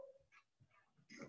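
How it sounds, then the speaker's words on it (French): A dog indoors gives short whimpering yelps and a rising howl-like cry, faint and broken by pauses, ending in a louder burst. "j'ai un chien qui hurle"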